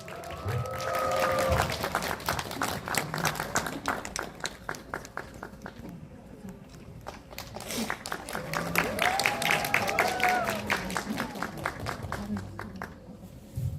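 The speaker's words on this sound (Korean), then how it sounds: "여러분 큰 박수와 환호로 맞이해 주시기 바랍니다" An audience in a cinema claps steadily to welcome a film director for an on-stage greeting. The applause rises and falls in two waves, with a voice talking over it.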